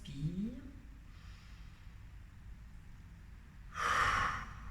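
A single deep breath drawn in by someone seated upright with eyes closed during a calm meditation exercise, a short airy burst standing out clearly against a quiet room.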